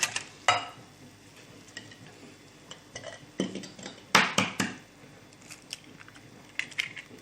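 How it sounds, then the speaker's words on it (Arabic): Eggs are mixed into garantita batter in a bowl, with scattered utensil clinks and scraping taps against the container. The sounds come close but faint, at an irregular rhythm with quiet gaps between them. "دوكا نديرو معاكم البيض ونقعدو نخلطو فيها مليح حتى هذيك الاخرى تذوب مليح"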